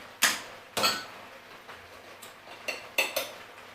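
Rice cooked the day before tipped and scraped from a bowl into a pan, heard as a series of sharp utensil knocks and clatters spaced irregularly, close and moderately loud.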